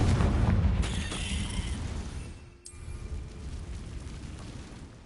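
A Confringo fire spell explodes in the game Hogwarts Legacy, giving a loud, sustained rumbling blast that fades and then rises again into a second burst.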